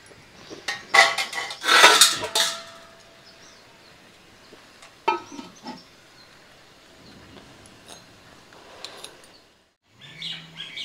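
A metal lid goes onto a pot of boiling fish curry with a quick cluster of bright clanks and rattles, followed by a few scattered lighter clinks and a quiet pause.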